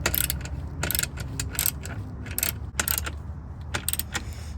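A ratchet tightens running board bracket bolts on a 2023 RAV4 LE AWD, giving close bursts of rapid metallic clicking separated by short pauses.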